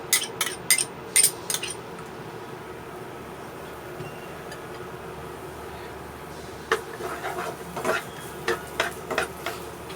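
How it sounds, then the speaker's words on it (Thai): Garlic fries in pork lard in a pan, a steady low sizzle throughout with bursts of clinking utensil strokes against the pan at the start and again near the end, close and without talk. "เราจะเจียว กระเทียมกับน้ำมันหมูให้หอมก่อนนะคะ"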